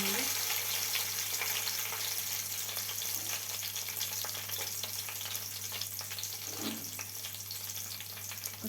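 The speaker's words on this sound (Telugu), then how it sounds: "ఆనియన్స్ కొంచెం గోల్డెన్ కలర్ వచ్చే వరకు వేయించుకుందాం." Onions sizzle steadily in a hot pan for a Telangana-style ridge gourd dal curry, a constant close frying hiss with faint stirring scrapes throughout.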